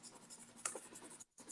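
A harder blue pastel stroked across soft, unsanded Canson paper, a brief dry scratchy rasp close up and quiet, with a sharper touch midway and a short pause near the end.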